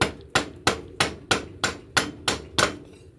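A steel hammer, not a dead blow, strikes wheel studs on a Polaris Xplorer 4x4 ATV hub, giving eight sharp, evenly spaced metallic blows up close with no talking.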